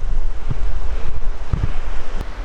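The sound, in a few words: creek water flowing down into a lake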